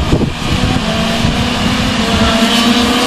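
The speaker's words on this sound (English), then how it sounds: "Here comes the shifter." A shifter kart engine screams loudly past at a kart race, a sustained high-revving buzz that holds steady and close with a slight rise in pitch, heard over open outdoor track ambience.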